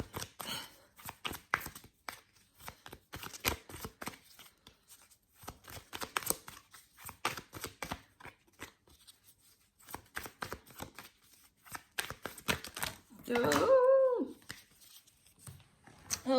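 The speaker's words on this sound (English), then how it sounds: "That's a really weird shuffle." Tarot cards are shuffled in soft, rapid riffling bursts and taps, repeating in irregular clusters at close range, with a brief murmur of a voice near the end.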